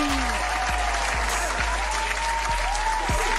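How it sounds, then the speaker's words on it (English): Canned round of applause dropped into a music-review livestream, a steady dense wash of clapping running the whole time over a low music bed with faint tonal sweeps. "Give it that round of applause, man."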